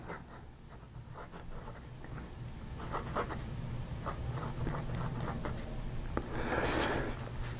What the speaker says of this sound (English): this is a very fine nib that lays down a really, really fine line